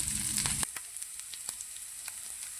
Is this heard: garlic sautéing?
yes